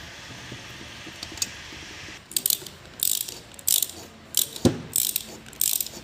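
A ratchet wrench tightens long cylinder head bolts on a four-stroke petrol power weeder engine, giving several short, sharp bursts of clicking close up over a low background hum.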